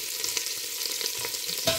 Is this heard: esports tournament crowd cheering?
no